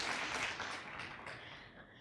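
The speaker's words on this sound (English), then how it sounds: "applause." Workshop audience applauding during a mixed reality presentation, a steady broad wash of clapping that is fairly quiet and thins slightly toward the end.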